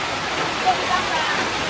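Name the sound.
rain on a mountain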